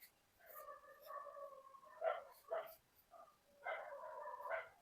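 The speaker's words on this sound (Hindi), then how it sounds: "कुत्ता भौंक रहा है, अगर आप लोगों तक आवाज आ रहा होगा तो थोड़ा सा इग्नोर मारिएगा आप लोग।" Dog barking faintly in the distance indoors near a tutor's online class, several short yelps and whining barks in uneven bursts, quiet and somewhat muffled.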